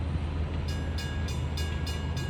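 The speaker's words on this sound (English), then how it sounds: "the train eases down to 10 miles per hour from the track speed of 25" A train easing down to about 10 miles per hour on a short-line railroad track, a steady low rumble with faint rhythmic high squeals or clicks repeating about every third of a second, with no talk.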